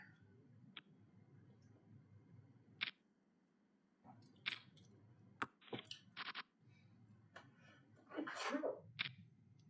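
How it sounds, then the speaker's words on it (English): One sharp sneeze bursts out near the end, close and loud, amid scattered clicks and taps in an otherwise quiet room. "Very rare for me to sneeze on stream."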